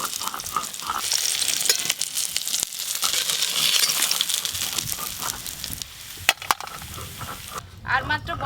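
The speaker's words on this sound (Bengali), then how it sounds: "পেটির মাছগুলোও ভালো করে ভাজা হয়ে গেল।" Pieces of silver carp fry in hot oil, giving a steady crackling sizzle with occasional stirring clicks and pan knocks, close and moderately loud.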